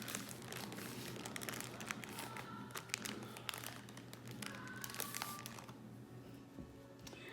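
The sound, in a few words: icing being put into a Ziploc bag, plastic crinkling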